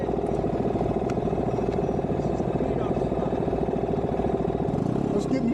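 Scooters from a club group ride cruise slowly through Amish country near Lancaster, Pennsylvania, with a steady, continuous engine drone and light mechanical clatter holding at an even level throughout.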